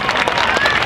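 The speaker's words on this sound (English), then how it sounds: "Give her a round of applause, folks." Audience clapping at a cosplay contest at a Japan festival, a short dense burst of applause from a crowd, with some voices mixed in.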